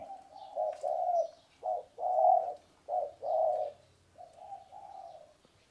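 A spotted dove coos in a steady series of soft, hollow phrases, close and clear, with short pauses between each call and no other sounds.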